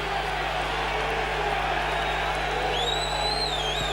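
A rugby league crowd at a 1994 Hull versus Leeds match roars in a steady, dense wall of noise, with whistles rising over it and a commentator talking above.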